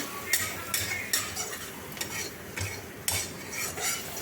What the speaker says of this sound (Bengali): সব একসাথে মিশিয়ে নিয়ে নেড়ে নিচ্ছি একসাথে সব মিশিয়ে নিয়ে সব একসাথে কষে নিচ্ছি